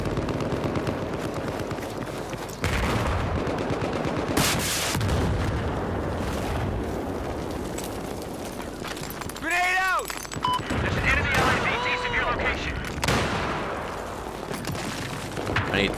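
Battlefield 4 combat: gunfire and explosive booms in loud, repeated bursts over dense game noise, with a few whistling, voice-like tones partway through.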